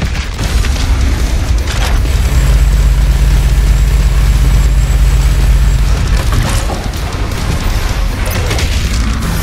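The BFG-10,000 fires in the video game Doom Eternal: a loud, deep, sustained rumbling boom that swells and holds for several seconds.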